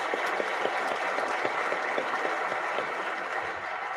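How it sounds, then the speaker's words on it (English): Large audience applause at a fireside event at IIT Delhi welcoming Vinod Khosla, a steady, continuous wash of many hands clapping at an even level throughout. "let's have another huge round of applause for Mr."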